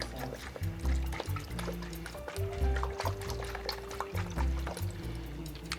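Worcestershire sauce poured into a Wagyu beef stuffed bell pepper mixture, making a quiet liquid trickle and gurgle over faint background tones.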